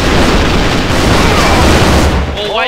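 A loud, sustained grenade blast rumbles through a scene of the online shooter AVA, close and filling the space. A voice cuts in briefly as the blast fades.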